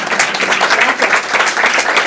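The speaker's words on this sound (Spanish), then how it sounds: "No aplaudan más" Loud, steady applause from an audience closing a talk on abstract photography, a continuous wash of many hands clapping close by with no voices over it.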